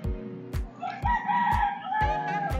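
A rooster crows several times, loud and close, with sharp repeated clucks or pecks punctuating the drawn-out cock-a-doodle-doo calls; no one speaks.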